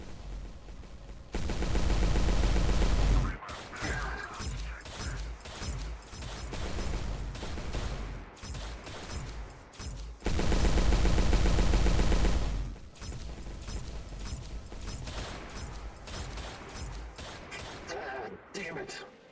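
Dense bursts of automatic gunfire fill a video game roleplay mission, loud and sustained in two long volleys with scattered shots between, while voices talk over the shooting.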